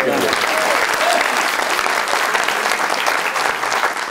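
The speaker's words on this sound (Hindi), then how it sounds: "उमर अयूब साहब बहुत सारी तालियां" A studio audience at a comedy talk show claps for Omar Ayub, a thick, sustained burst of many hands, with a few faint voices briefly rising under the clapping near the start.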